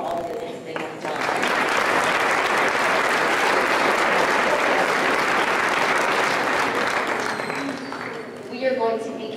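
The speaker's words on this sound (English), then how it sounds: "would you please give them a round of applause for all the things they have done." A school spring music concert audience breaks into loud, sustained applause, a dense wall of clapping that swells after a brief lull and holds steady, then fades as voices and sounds return near the end.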